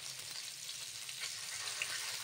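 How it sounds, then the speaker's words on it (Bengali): Singi fish frying in hot oil in a pan, a soft, even, steady sizzle heard close but faint, with no talking over it. "দেখো মাছগুলো ভাজা হচ্ছে"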